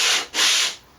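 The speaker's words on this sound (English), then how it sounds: "you can use a long strip of fairly stiff sandpaper like this" A long strip of fairly stiff sandpaper rubs across a carved guitar neck in two quick, close strokes with a bright abrasive hiss, the second stroke longer before fading to quiet.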